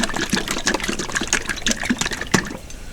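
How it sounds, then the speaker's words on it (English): A brush or tool stirs decorative ceramic underglaze in its jar, producing wet, irregular clicking and sloshing scrapes close up, repeated busily for a few seconds with no talking. "Just make sure it's stirred up really good because it will settle sometimes."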